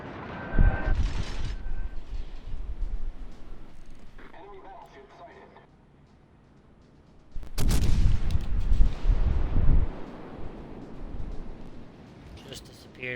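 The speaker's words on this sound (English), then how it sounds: "We'll let that New Mexico go take some shots." Naval gunfire from the battleship New Mexico in a warship video game, heavy booming salvos in two main bursts with rumbling tails, mixed with game ambience and someone talking.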